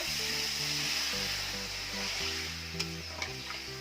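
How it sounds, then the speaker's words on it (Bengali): Mixed winter vegetables sizzle and fry steadily in a pan as water is added for a curry, a continuous close hiss with a couple of brief clinks; no talk. "জল দিয়ে দেব জল দিয়ে দেব"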